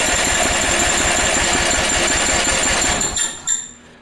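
A Murray 309000x8 mower engine cranks with a rapid, loud, chugging rhythm that suddenly cuts off near the end, followed by a couple of brief clunks as it fails to keep running.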